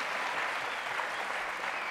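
Studio audience applauding on a French television talk show, a steady, dense wash of clapping that fills the whole stretch at even loudness with no voices over it.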